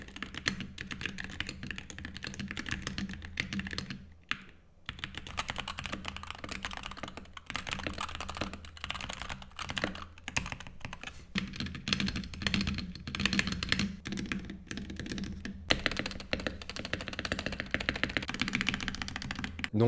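Continuous fast typing on Wooting and magnetic Hall effect keyboards, a dense clatter of keystrokes with a brief pause near the five-second mark, close and steady throughout.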